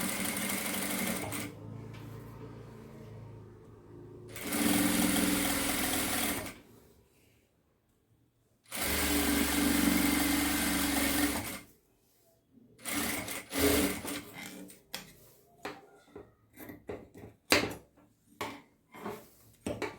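A sewing machine stitches thread piping onto fabric in two loud sustained bursts of whirring, separated by pauses, followed by a scatter of short handling clicks and rustles.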